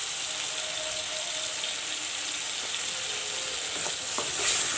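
Turmeric and chili powder masala for a mustard-and-garlic sabji fries in a pan with a steady, faint sizzling hiss and a few light stirring clicks near the end.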